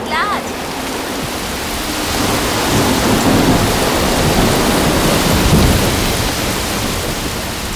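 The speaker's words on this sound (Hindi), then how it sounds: "बारिश मुझे बहुत पसंद है।" Heavy rain pours steadily with a deep rolling rumble of thunder building beneath it, loud and continuous throughout.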